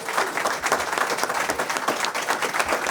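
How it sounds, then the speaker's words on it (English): Audience applause at a 2024 Charter School Changemakers panel event, a dense steady round of clapping from a seated crowd, sustained and fairly loud throughout with no voices over it. "let's give our 2024 Charter School Changemakers a round of applause"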